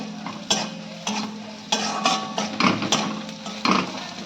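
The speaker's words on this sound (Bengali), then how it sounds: "আমি এটা ভালো করে কষাবো।" Spice paste with turmeric is fried and stirred in a pan for sim posto, a soft sizzle under a series of distinct spoon knocks and scrapes against the pan, arriving at an uneven rhythm roughly every half second.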